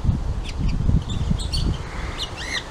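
Small birds such as budgies chirp and squeak in quick bright bursts at a birdhouse in a Care Bears farmyard video game, playing over a rumbling background bed.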